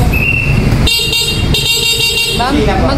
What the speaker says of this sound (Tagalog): Ito yung busina, sir.